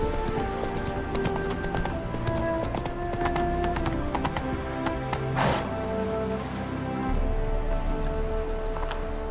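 Horse hooves clip-clop at a steady gallop in The Witcher 3, a continuous rhythmic patter heard up close under game ambience and music, with a brief whinny-like burst midway.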